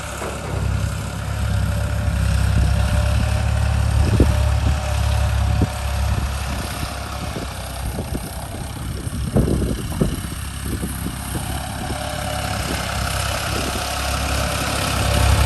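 A tractor engine runs at a steady idle, a loud continuous low rumble with a faint knock, with occasional clanks in the middle and no talk.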